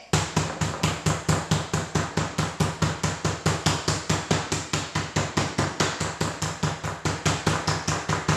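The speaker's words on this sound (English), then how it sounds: "do a little whacking, and then I go back with the smaller side" A meat mallet pounds chicken breast for chicken parm, with rapid, even, close thuds repeating about five times a second without pause.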